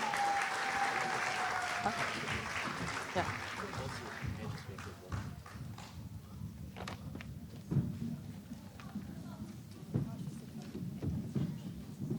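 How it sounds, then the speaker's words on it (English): An audience at a school annual day applauds as a class comes on stage. Dense clapping is loud at first, then thins into scattered claps while voices talk over it. "Let's give them a huge round of applause."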